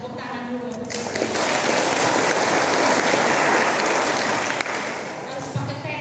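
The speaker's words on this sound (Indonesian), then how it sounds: "Tepuk tangan dulu." A church congregation applauds during a Sunday worship service for Alor ethnic culture month, a dense, steady wash of clapping that swells after the first second, holds for several seconds, then eases off.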